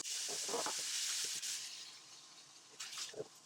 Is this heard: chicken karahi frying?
yes